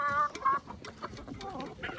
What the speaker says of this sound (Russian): Курочка Маран. Черненькая вот.